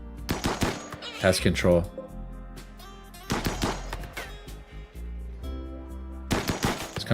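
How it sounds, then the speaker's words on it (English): Assault rifle fire during hunting in the video game RimWorld: several short bursts of rapid shots spaced a couple of seconds apart, with someone talking over and between them. "Assault rifle hunting"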